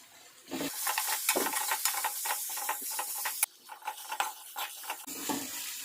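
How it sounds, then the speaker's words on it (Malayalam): Sliced onions fry in a pan for chicken curry, crackling and sizzling in a steady hiss, broken by repeated scraping stirs of a spoon, with a brief pause partway and no talking. "നമ്മുടെ സവാള നന്നായിട്ടൊന്ന് വഴന്ന് വരണം."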